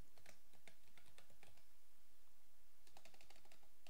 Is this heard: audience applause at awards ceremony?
no